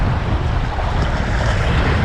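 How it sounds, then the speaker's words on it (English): Strong wind buffets the microphone at a coastal fishing pass, with rushing waves and surf blending into a constant loud roar and no voices. "Like I said, very windy."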